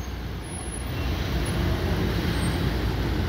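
A city bus passing on a road in Turkey, a steady broadband traffic roar building slightly and holding throughout, with no talk.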